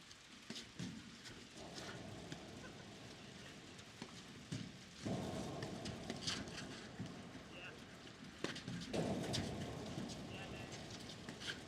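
Steady rain falls on an outdoor table tennis match, a constant broadband patter with louder surges, while commentators talk over it throughout.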